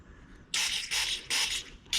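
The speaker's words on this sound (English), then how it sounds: "now you can spray it through your overflow thing, and that comes straight through here" Aerosol carburetor cleaner sprayed through the overflow tube of a Honda CRF50 carburetor: three sustained hissing bursts of about a third of a second each, close and loud, separated by short pauses, with a fourth burst starting at the end.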